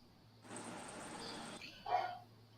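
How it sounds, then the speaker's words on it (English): A house dog barks from another room, one faint broad bark followed by a short sharper yelp, both muffled and distant against a quiet indoor background. "Oh, I hear my dog barking"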